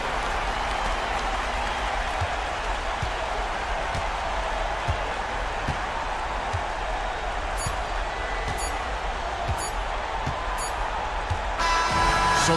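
A home crowd cheers in a basketball video game, a dense, steady roar of applause and crowd noise that continues without a break, with faint bouncing thuds underneath.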